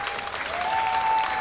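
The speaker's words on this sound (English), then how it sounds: "I want you guys to join me in applauding my brother, Mr. Almami Nabe." Crowd applause at a West African community party celebration, a dense steady clapping that fills the short stretch at even loudness, with a thin sustained electronic tone running beneath it.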